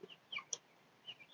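Backyard chickens and a big rooster clucking briefly, a few soft clucks and one sharper call, faint and close in a quiet coop setting.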